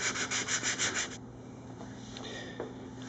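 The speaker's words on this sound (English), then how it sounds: "I will finish up by sanding with 220 grit sandpaper" Close, rhythmic strokes of 220 grit sandpaper rub over cured epoxy on a Les Paul guitar body, about five quick back-and-forth passes before the sanding stops and a quiet room remains.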